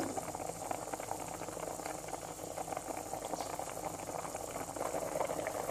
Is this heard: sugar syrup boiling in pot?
yes